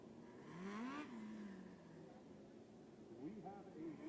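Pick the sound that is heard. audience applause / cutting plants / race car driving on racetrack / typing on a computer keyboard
race car driving on racetrack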